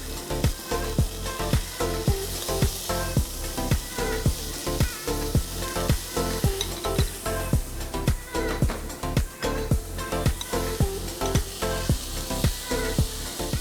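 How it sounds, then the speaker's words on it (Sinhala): Chicken pieces grilling in a pan with garlic added for chicken and egg drop soup, a constant sizzle with regular, rhythmic scraping or stirring strokes, close and clear, no talking. "දැන් මේ chicken කෑල්ල මම grill කරගන්නවා. දැන් මම මේකට ලුණු සුදු ලුණුත් එකතු කරගන්නවා මෙහෙමම."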